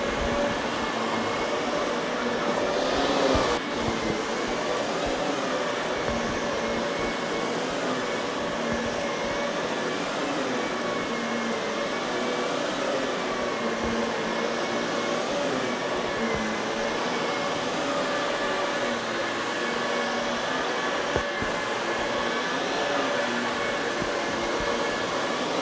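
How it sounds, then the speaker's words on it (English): Carpet cleaning vacuum running over carpet, a loud continuous whining drone with steady motor hum that holds throughout, with a couple of small knocks and no talk. "So now I'll flip the vacuum down again."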